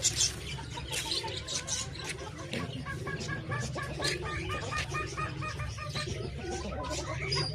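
A crowd of chickens clucking and chattering nearby, overlapping calls in a busy steady rhythm, with no talking.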